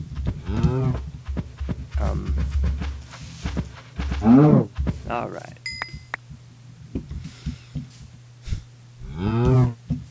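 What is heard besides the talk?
cow mooing in Minecraft video game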